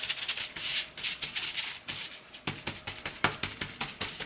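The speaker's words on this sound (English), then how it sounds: "I'm going to take the black acrylic paint, scrape off as much as I can, and then put it on this tray." A brush scrapes black acrylic paint against a tray in quick, rough strokes, close and soft, as stairs of a haunted house prop are aged, with no talking.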